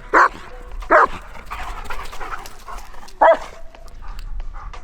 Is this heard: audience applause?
no